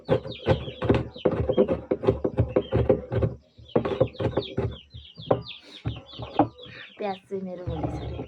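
A chicken clucking nearby in a rural Nepali household, short repeated clucks mixed in with someone talking close by.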